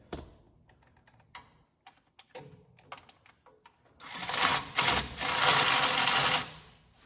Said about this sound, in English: the way I do it is I get my ratchet